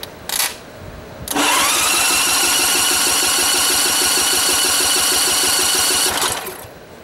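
A Montgomery Ward GX7 tractor engine is cranked after 37 years without running, and the starter whirs loudly and steadily for about five seconds before it stops. The engine does not catch, and there is no talking.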